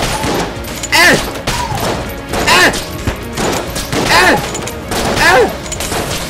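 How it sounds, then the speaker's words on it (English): Gunfire in the video game Enter the Gungeon comes in rapid, dense volleys that repeat roughly every second, with chirpy sweeping effects layered over the loud bursts. "I can even just randomly shoot and I'm gonna hit something."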